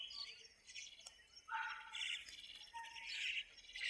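Small birds chirp and tweet near and fairly loud in a rural village in Yavatmal district, bursts of high calls overlapping across the whole stretch as they gather at a daily feeding spot.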